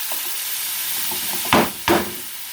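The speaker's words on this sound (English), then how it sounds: "And I'm going to fry my broccoli." Broccoli frying in a pan over medium-high heat gives a steady sizzle and hiss, broken by two louder scraping stirs near the end.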